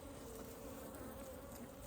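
Honeybees buzz steadily and softly throughout a fall hive inspection, a continuous low drone from many insects close by with no talking.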